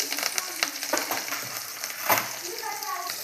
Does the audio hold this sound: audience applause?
no